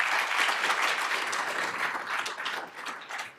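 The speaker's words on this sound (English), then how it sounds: "If I could give them one more hand, if you will, on that." An audience applauds a panel at a regional business event, with dense, sustained clapping from many hands filling the room and easing off slightly toward the end.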